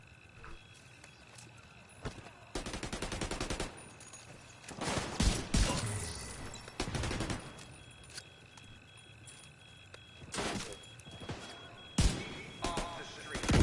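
Bursts of automatic gunfire crackle from a player's weapon in a PS4 shooter's dark zone, several loud volleys separated by pauses, with scattered single shots and game ambience between.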